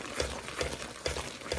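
Caramel boils in a saucepan, giving off faint, soft bubbling and popping pulses in a quiet, close-up kitchen setting.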